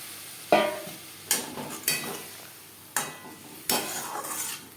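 Potatoes sautéed with spices and a splash of water in a pan, with several sharp scraping stirs at irregular intervals over a steady close sizzle, no talking.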